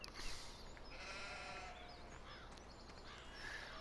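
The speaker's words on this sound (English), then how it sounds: "here are the sheep" Sheep bleating in the video game Farming Simulator 17 on a pasture, several faint overlapping bleats over quiet ambient noise.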